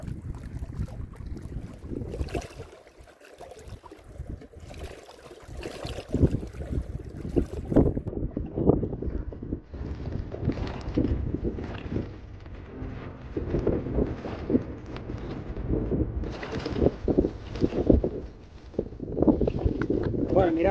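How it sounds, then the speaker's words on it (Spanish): Strong outdoor wind buffets the microphone while fishing for black bass in autumn rain, a loud continuous rumble that swells and gusts throughout, with occasional faint water and boat-like noises. "se ha levantado un viento fuerte y está arreciando cada vez más"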